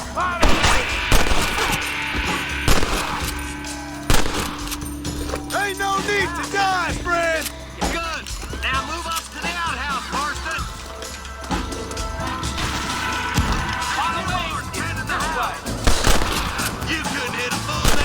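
Gunfire and crashing impacts in the Western video game Red Dead Redemption, with repeated sharp shots and smashes amid busy game sound and someone talking over the action.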